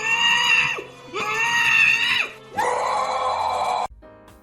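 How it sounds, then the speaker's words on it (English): Three long, shrill screams in a high-pitched cartoonish voice of Yoda, each held for about a second with brief gaps between them, loud and close, ending abruptly. "there's only so many videos of Yoda screaming that I can watch"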